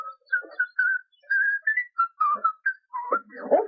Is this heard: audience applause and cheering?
no